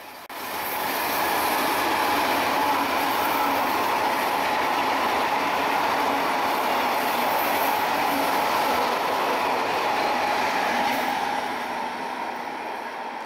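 A train rolls along the Nuremberg–Bamberg railway, a line where regional, intercity, ICE and freight trains share one track per direction. It makes a loud, steady rumble and wheel roar that fills the whole stretch without pause, with no voices.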